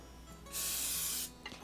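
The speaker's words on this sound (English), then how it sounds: "and then spray these little sides as well" Cooking spray from an aerosol can hisses into a baking pan in one steady burst of under a second, close and fairly loud against a quiet kitchen background.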